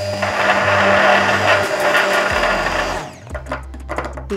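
A hand blender whirring steadily as it mixes cosmetic cream, a loud, even motor drone that cuts out and then restarts briefly, with no talk.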